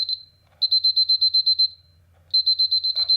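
A Seiko bedside alarm clock sounding a shrill, rapid electronic beeping in quick evenly spaced bursts, a long run, a pause, then another run, loud and alone in a quiet room.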